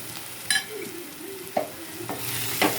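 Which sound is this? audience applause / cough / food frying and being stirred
food frying and being stirred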